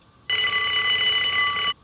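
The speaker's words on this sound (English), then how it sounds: "Is that an alarm? Probably somebody's alarm clock." An alarm clock in a video game rings in one continuous, loud, bright electronic tone lasting under two seconds, starting and stopping abruptly.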